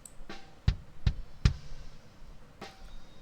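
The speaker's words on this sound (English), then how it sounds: "Without all these plugins, the kick sounds something like this." A few dull, unprocessed kick drum thumps land unevenly, fairly quiet against a faint noisy background, with a softer hit near the end.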